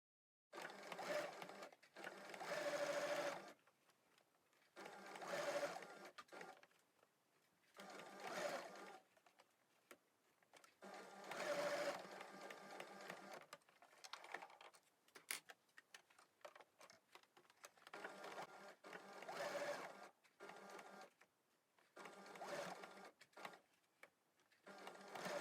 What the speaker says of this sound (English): sew down both of these sides to hold those pleats in place with just a straight stitch